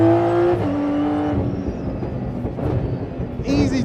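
An Aston Martin Vulcan engine wails hard with a steady high tone that drops as it shifts, then fades into rumble before surging again, chasing a McLaren P1 GTR on track, with voices partly over it.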